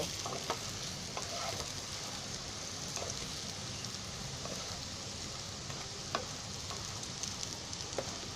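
Fenugreek leaf vegetable rolls roasting in a pan and turned now and then; a constant soft sizzle with occasional scrapes and taps of the spatula, fairly quiet.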